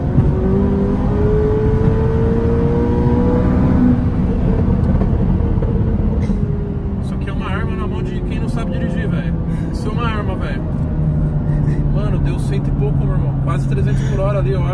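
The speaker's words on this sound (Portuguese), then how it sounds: "deu um rolezinho na McLaren, deu uma acelerada" McLaren sports car accelerating along a Miami Beach street, a loud steady engine roar with rising and falling tones throughout, heard from inside the car with people talking over it.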